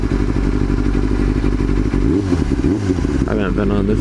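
A Yamaha R6 sport bike rumbles steadily at close range, its engine note rising and dipping slightly while a rider talks over it.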